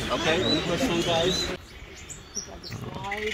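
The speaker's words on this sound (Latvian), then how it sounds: "Tādi te viņi ir tie putneļi." Small birds chirp and tweet in quick, bright bursts close by on a sailing trip in the Seychelles, with a busier stretch of calls followed by sparser chirps, and people talking alongside.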